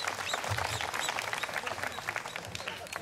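An outdoor crowd at a birds of prey and owls demonstration claps for a bird named Merlijn, a steady wash of many hands at moderate level with no break.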